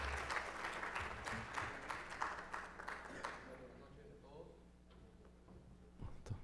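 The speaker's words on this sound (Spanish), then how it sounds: "a quien recibimos con un fuerte aplauso" Seminar audience at a labor law event applauding to welcome a speaker, a fairly faint spread of clapping that fades out after about three seconds, followed by quiet room noise and a few small knocks.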